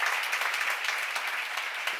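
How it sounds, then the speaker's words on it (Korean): A church congregation claps together during a Bible seminar sermon, a dense, steady patter of many hands filling the room without a break, with no voices over it. "빨리 박수 한번 치세요."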